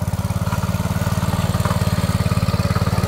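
A tractor engine running in a paddy field in Konkan during the rice planting season, a loud, close, steady throbbing chug with a fast, even beat and no talk.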